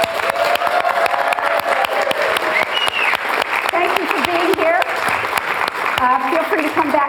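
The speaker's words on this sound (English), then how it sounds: "We'd love to give you a round of applause." Audience at a Prime Time for Women TV show taping applauds the men standing in the crowd, a steady dense wash of clapping that runs throughout, with voices and cheering mixed into it.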